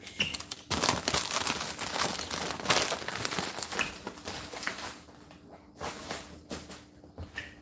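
Fragile stickers for packages crinkle and rustle close by in a busy stretch of handling, then the crackling thins into scattered softer rustles.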